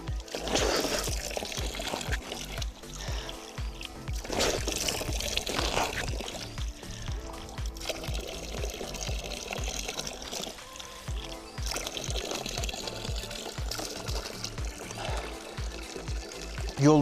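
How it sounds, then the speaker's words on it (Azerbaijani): Spring water pouring and splashing outdoors as someone washes face and hands, a continuous close gurgling flow with irregular splashes, a voice occasionally mixed underneath. "Bir bulaqdan su doldurum içim, əl üzümü yum, özümə gəlim."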